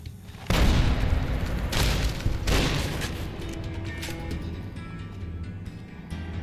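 A grenade explodes in the video game Fallout New Vegas, a loud deep boom followed by a second blast a moment later, then a rumbling decay that fades out.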